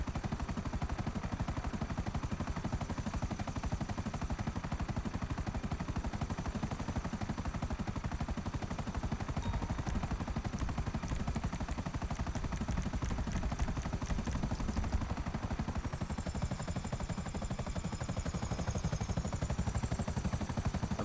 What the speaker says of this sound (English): Akula kind of feels very slow. Even though it's a fast helicopter, but still, it does feel slow.